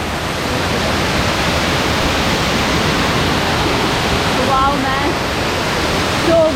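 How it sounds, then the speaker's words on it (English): Layered waterfall at Kothapally, broad continuous rushing of falling water, loud and close, with brief voices near the end. "This is one of the waterfalls which is layered waterfalls, guys."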